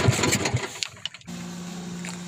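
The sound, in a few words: bangka boat engine starting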